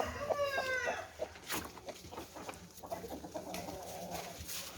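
A hen clucks nearby in a series of low, throaty calls, with other chicken sounds and light rustling around her.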